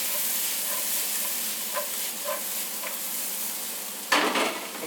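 Onion, garlic and carrot sizzle steadily in a hot pan for kimchi fried rice, with occasional stirring scrapes and a louder burst of frying near the end.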